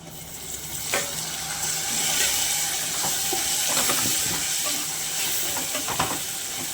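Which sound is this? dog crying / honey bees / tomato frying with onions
tomato frying with onions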